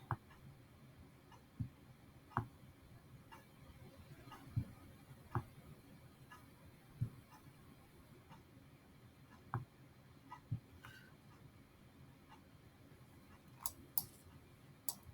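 A computer mouse clicks while someone draws, giving sparse, faint, sharp ticks at irregular intervals over a quiet room.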